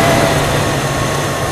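Engine of a 1996 Buick Roadmaster idling, a steady low hum with an even drone, close and continuous, no speech.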